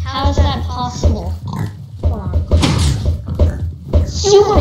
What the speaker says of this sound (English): I guess that's a baby pig